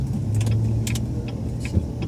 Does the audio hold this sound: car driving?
yes